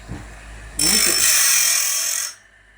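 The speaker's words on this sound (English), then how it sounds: "And we're sharpening these at 10 degrees." A sawmill blade set at 10 degrees is sharpened by a grinder, a bright, harsh grinding screech that starts abruptly, holds steady for about a second and a half, then cuts off, with a brief low murmur before it.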